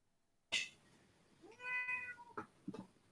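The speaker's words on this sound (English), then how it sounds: "Yeah, the cat is here." A domestic cat meows a few times close by, a drawn-out harmonic meow followed by two shorter calls, heard alone indoors with no talking.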